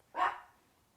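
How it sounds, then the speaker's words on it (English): A single short dog bark, close and fairly loud, rising sharply and then fading out over a quiet background. "What are you barking for?"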